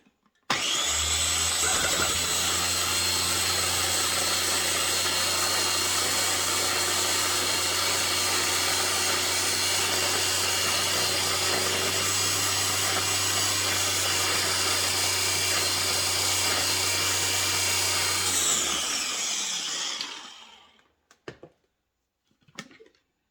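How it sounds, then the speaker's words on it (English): A food chopper runs continuously for about eighteen seconds, cutting onions with a loud, steady electric whir and rattle, then winds down and stops, followed by a few faint clicks. "See, that just doesn't seem like it wants to really cut those onions that well."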